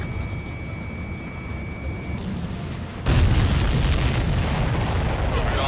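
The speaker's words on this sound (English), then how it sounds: "Missile hit the supply ship dead on." A supply ship struck by a missile explodes in the Ace Combat 7 flight game, with a sudden loud boom arriving partway through and a sustained broadband roar over steady engine noise.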